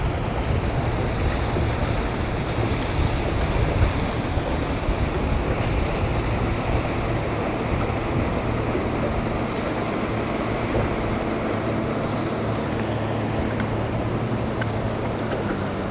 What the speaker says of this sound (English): It was nice, even with the wind blowing.